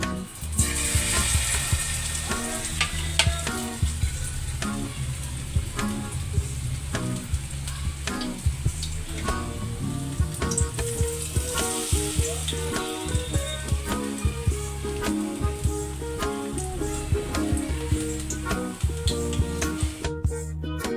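Batter-dipped chichinga gourd fritters fry in hot oil in a kadai, giving a loud, continuous crackling sizzle with dense popping throughout and no voices.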